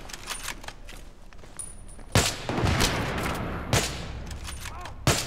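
A single sharp sniper rifle shot from a quick-scope in the shooter game Battlefield 3, loud and close, among other distant gunfire bursts and footsteps in a busy battle soundscape.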